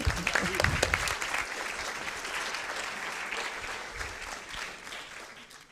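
Applause from the audience at a youth departmental council integration day for councillor Nathan Ngué, starting strong with a few louder close claps, then a steady clapping crowd that gradually tapers off.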